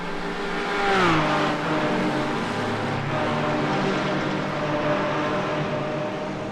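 A field of GT4 race cars accelerates at Catalunya in a sim racing game, with layered engine whine climbing through gears in a dense, steady roar of many cars together, and no talking.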